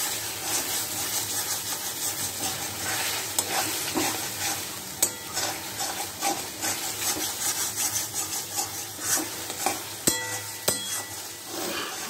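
Mutton fat frying with onions in a pan, a steady close sizzle broken by repeated scraping and stirring strokes and a few sharp clinks near the end, with no talking.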